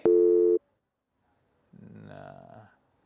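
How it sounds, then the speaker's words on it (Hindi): A phone call placed to reach a contact: a loud steady telephone tone sounds for half a second, then after a gap a faint muffled voice answers on the line. "तो मैंने प्रोड्यूसर साहब से कहा कि लगाइए भाई चतुर्मोता साहब को फोन"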